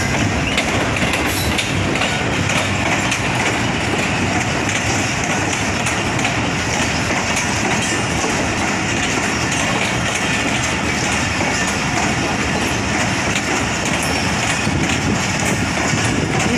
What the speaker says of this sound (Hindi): ये 1 खैबर मेल आ रही है कराची से पेशावर के लिए, 9008 GEU40 4000 हार्स पावर इंजन है।